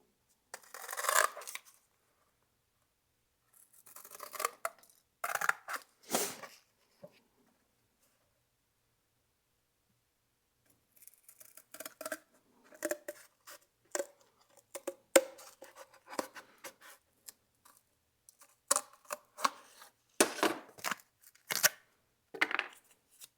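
Scissors snip through sheet metal in short, crisp bursts of cutting, close up, with a long quiet pause between the opening cuts and a later busier run.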